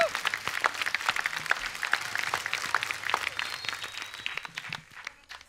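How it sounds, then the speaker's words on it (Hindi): A television studio audience gives loud, sustained applause, dense clapping filling the room and fading out toward the end, with faint voices underneath. "जोरदार तालियां।"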